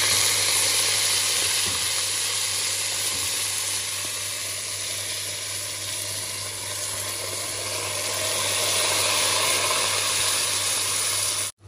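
Washed rice added to a pan of golden fried vermicelli sizzles loudly and steadily, a dense continuous frying hiss with faint stirring, close up and uninterrupted by talk.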